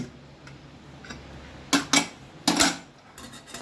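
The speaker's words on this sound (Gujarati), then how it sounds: "કુકર ખોલીને જોઈ લઈએ" A pressure cooker of palak pulao is opened with a few sharp metallic clanks and knocks of the lid against the pot, in separate bursts amid quiet.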